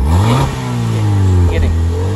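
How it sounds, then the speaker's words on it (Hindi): Petrol engine of a 2015 Suzuki Swift revving up and holding at higher revs during a service check, a steady close-up drone with talk over it. "जरा एक्सीलेटर देना, एक्सीलेटर दो"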